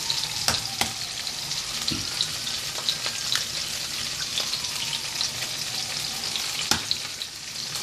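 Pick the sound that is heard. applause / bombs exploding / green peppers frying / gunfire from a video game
green peppers frying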